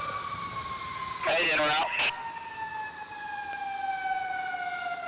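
Fire engine siren responding to a mock gas line strike, a steady high wail over radio static, cut by a short loud burst of radio voice partway through.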